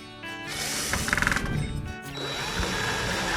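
A power screwdriver drives screws into garden shelves, giving a continuous close whirring drone with a brief rattling stretch in the middle, and no talking over it.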